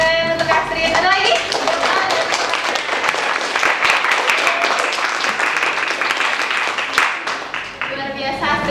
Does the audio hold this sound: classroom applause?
yes